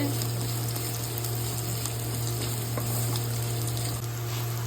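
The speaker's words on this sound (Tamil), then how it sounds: "இப்போ புளி போட்டது வதங்கிடுது, பிரண்டையும் நல்லா வதங்கிடுது" Tamarind and pirandai (adamant creeper) sautéing in a home kitchen pan give a continuous soft sizzle and frying hiss, steady and low over a persistent background hum.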